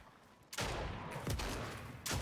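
Gunfire in the video game Fortnite: three or four loud, sharp bursts of shots within about two seconds, close and harsh, with no talking.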